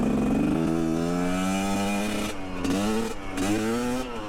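Close and loud, a 2021.5 GPX Moto TSE250R motorcycle is ridden with its engine droning continuously. Its pitch climbs through revs, drops briefly as the rider shifts, and rises again.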